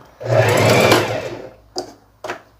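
A Facilita Pro sewing machine stitching a festonê (blanket) stitch runs in a loud, close whirring burst for about a second and a half, followed by two short separate stitch bursts.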